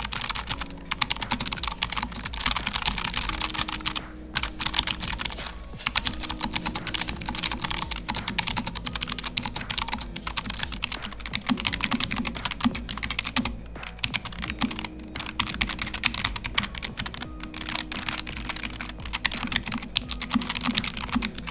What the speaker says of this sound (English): This keyboard is much quieter, and you'll hear it in a second.